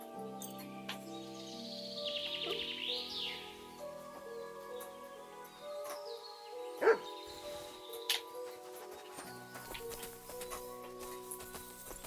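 Mutt the dog barks in Kingdom Come: Deliverance 2, a short bark standing out over layered game music and outdoor ambience, with hoof clops and birdsong in the mix.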